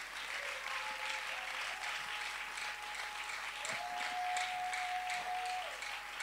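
A church congregation applauds steadily to acclaim the Lord, with a sustained wash of clapping heard at moderate distance and a faint tonal hum underneath.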